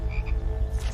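Frogs croaking in rapid, pulsing bursts, close and moderately loud, forming a dense rattling chorus with no other sound.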